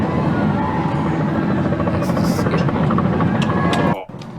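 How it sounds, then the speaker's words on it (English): A helicopter passes overhead outside a courthouse verdict announcement, its steady rotor drone and buzzing engine loud and continuous for about four seconds before cutting off abruptly. "that was a helicopter"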